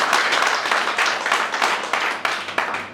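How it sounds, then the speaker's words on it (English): An audience at a birthday celebration in Abu Dhabi claps loudly for a few seconds, a dense patter of hands close by with uneven bursts and no talking over it. "And I think you need to clap yourself."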